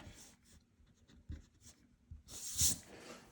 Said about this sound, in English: And then now we can erase our lines in there.